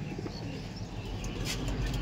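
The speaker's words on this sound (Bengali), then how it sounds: "আসুন, এখানে দেখুন অনেক সিঙ্গেল পায়রা আছে।" Kaldom pigeons coo softly in a loft, low rolling calls over a steady background hiss with faint rustling.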